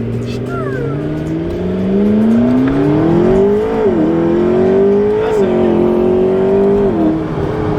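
A McLaren 650S engine revs up, its pitch climbing steadily then wavering through several throttle blips, loud and close, with voices talking over it.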